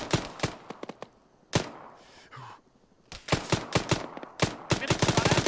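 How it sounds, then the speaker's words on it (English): Gunfire in a military video game: rapid bursts of close automatic shots, a pause with a whoosh, then dense repeated volleys to the end, with brief talk underneath. "Keep shooting the fuck out of them bastards."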